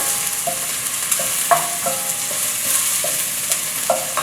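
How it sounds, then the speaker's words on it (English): Onions sauté in a pan for vegan paella, a steady close sizzle broken by regular light scrapes and taps of a spatula. "So let the onion cook for about, I'd say 30 seconds, 30 more seconds."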